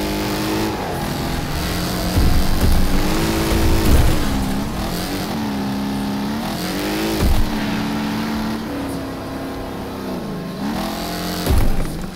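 Race car engines in the demolition racing game Wreckfest rev and roar continuously, with louder acceleration surges and shifting engine pitch throughout, no talking.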